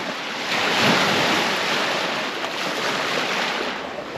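Lake waves whipped up by a sudden storm during a backpacking trip in the Grand Tetons, a loud, continuous wash of churning water and gusting wind buffeting the microphone, swelling and easing without voices.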